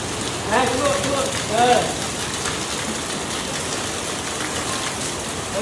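Rain falls steadily behind a house as a constant, close hiss, with children's voices briefly cutting through early on.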